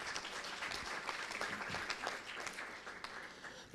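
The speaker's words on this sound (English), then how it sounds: "Let's give her a round of applause." A conference audience applauds the Swedish ambassador at an energy efficiency and electric mobility event, steady dense clapping from a large room filling the whole stretch.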